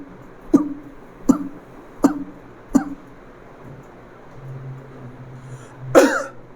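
A voice imitates a newborn's weak, suppressed cough with pneumonia: four short, muffled, evenly spaced coughs close by, followed by a brief rougher throat sound.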